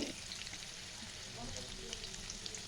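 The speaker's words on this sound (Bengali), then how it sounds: "একটা একটা করে তেলে দিয়ে দেবো এটা একটু হালকা তেলেই ভাজতে হবে" Bengali pitha dumplings frying in shallow oil, a faint continuous sizzle with soft crackles and pops, quiet and steady throughout.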